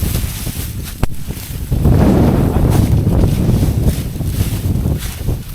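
Gusty wind sweeps through a cornfield, a broad rushing roar with a sharp knock near the start and no talk.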